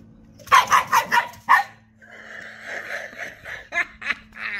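A dog barks several times in a quick burst of sharp yaps, loud and close indoors, followed by a softer whining, yelping stretch with a few more barks.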